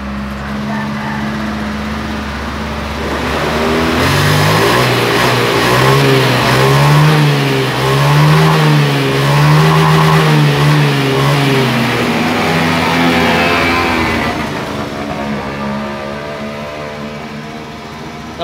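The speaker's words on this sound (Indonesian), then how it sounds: "Saya akan mencoba menghidupkan motornya." A Honda Beat FI scooter engine, one that tends to stall shortly after starting, idles and then revs up in several rising and falling throttle blips before settling back to idle, close and loud.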